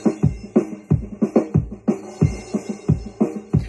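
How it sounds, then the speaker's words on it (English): A full drum kit playing a steady groove, kick and snare hits ringing with roomy ambience as if picked up from across the room. "that's really the full drum sound you can hear from there."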